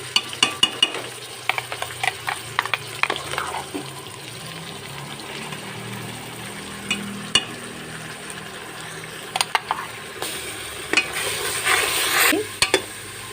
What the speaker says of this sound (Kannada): ಇದರ ಹಸಿ ವಾಸನೆ ಹೋಗುವವರೆಗೆ ಇದನ್ನು ಚೆನ್ನಾಗಿ ಹುರ್ಕೊಳ್ಬೇಕು ಚೆನ್ನಾಗಿ ಬೇಯಿಸ್ಕೊಳ್ಬೇಕು